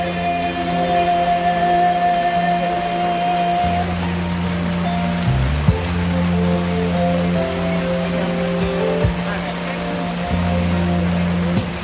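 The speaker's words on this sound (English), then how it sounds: "It's raining so hard you can't hear the music anyway." Heavy rain pours down at an outdoor December vigil. It makes a dense, unbroken hiss that lasts throughout and nearly buries faint music playing beneath it.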